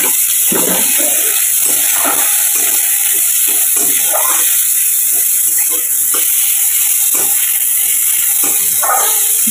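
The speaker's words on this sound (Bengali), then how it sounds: "এবার তেলে দিয়ে দেব একটু সর্ষে ফোড়ন, তার মধ্যে দিয়ে দেবে পেঁয়াজ রসুন কাটা।" Black mustard seeds, chopped onion and garlic frying in hot oil in a home kitchen, giving a steady loud hiss with scattered pops and crackles throughout.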